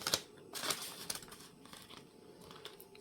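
Paper banknote for a budget envelope being handled up close, with crisp crinkling and rustling bursts near the start and middle that continue more softly throughout.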